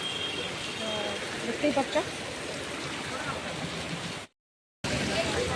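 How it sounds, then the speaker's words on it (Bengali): Heavy rain pours in Puri as a dense, steady rush of water under a speaking voice, with a short drop to silence near the end. "তো দেখতেই পাচ্ছ কীরকম বৃষ্টি হচ্ছে"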